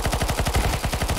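Rapid automatic gunfire from a CS:GO match cracks out in a quick, even burst of about a dozen sharp shots close up, with no voices.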